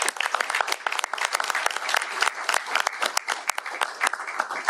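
A crowd at a governor's bill-signing ceremony bursts into loud, sustained applause, many sharp overlapping claps forming a busy, close wall of sound for several seconds.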